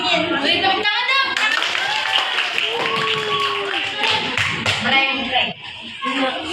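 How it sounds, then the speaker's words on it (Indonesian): A classroom audience at a Pancasila education outreach session claps in scattered bursts, mixed with nearby voices talking. "Beri tepuk tangan dong."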